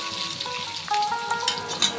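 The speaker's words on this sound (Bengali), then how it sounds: "আলুটিকে ভালোভাবে ভেজে নেব" Potato pieces frying in hot oil with salt and turmeric, a steady close sizzle and crackle with stirring scrapes, fairly loud and without talking.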